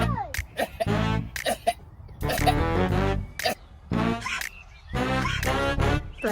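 A sheep sneezes and snorts repeatedly in short bursts, close and loud, with brief pauses between the bursts.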